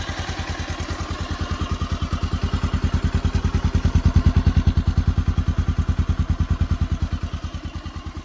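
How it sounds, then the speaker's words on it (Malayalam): A 2011 motorcycle engine runs close by with a steady, even thumping idle pulse that swells slightly in the middle and then settles, heard alone without talk. "നമുക്ക് എൻജിൻ സൗണ്ട് ഒന്ന് കേൾക്കാം."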